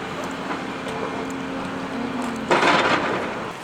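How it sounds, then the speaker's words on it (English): A low rumble of passing rail traffic at an Amtrak train station with a faint steady tone, then a louder clattering burst of noise near the end, no one speaking. "There's a train station."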